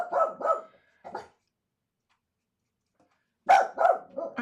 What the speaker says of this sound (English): That's why you were barking, wasn't it, Sparky?